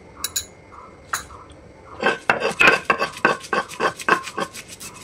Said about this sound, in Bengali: পোস্ত আর কাজু বাদামটা শিলনোড়ায় নিয়ে এবার আমি মশলাটা বেটে নেব